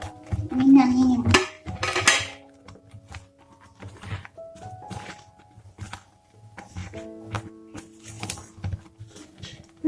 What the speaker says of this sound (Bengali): দিয়ে আরো 5 মিনিট নাড়াচাড়া করে আমি নামিয়ে নেব